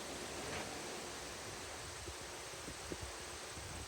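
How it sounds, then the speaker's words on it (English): Strong wind blows outdoors during tree trimming, a steady low rushing roar with no breaks, fairly faint and distant, with a few soft rustles as it gusts. "This is some crazy wind."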